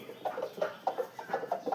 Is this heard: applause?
no